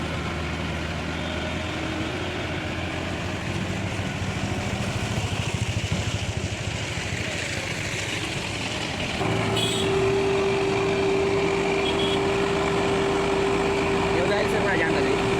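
A Hindustan 60 tractor's diesel engine runs steadily with a constant low rumble. About two-thirds of the way through it gets louder and takes on a sustained whining tone, close by.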